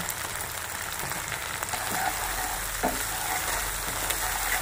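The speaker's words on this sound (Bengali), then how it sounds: "এবারে ভালো করে আমি মশলাটা কষিয়ে নেব" Spices and turmeric sauté in hot oil for cumin hilsa fish, making a dense, steady sizzle like light rain with occasional stirring scrapes close by and no speech.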